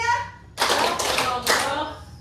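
A group claps hands in a rhythmic clapping game, two dense bursts of many hands clapping together separated by a short gap, loud and close, following a spoken cue.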